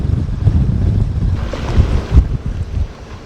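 Strong wind at Portknockie harbour on the Moray Firth in north-east Scotland buffets the microphone in a loud, continuous low rumble, with gusts swelling and easing and no talking.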